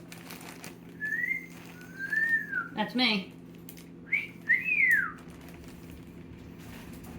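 A pet parrot whistles, imitating its owner's whistle: a few clear rising-and-falling whistled notes close by, with a brief spoken phrase breaking in between them.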